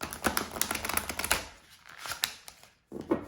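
Large oracle cards shuffled by hand, a quick series of close, crisp papery riffles and slaps that pause briefly before one more burst.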